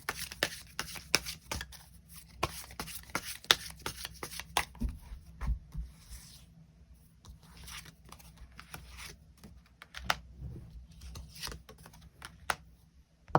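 Tarot cards shuffled and drawn by hand, a close, dense run of quick papery riffles and flicks, briefly easing mid-way before resuming, without speech.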